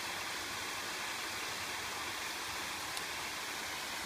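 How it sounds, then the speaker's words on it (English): Steady broadband rush of water pouring over the spillway falls at Cleburne State Park, a continuous, fairly loud wash with no breaks and no voices. "here's the start of the falls, the spillway"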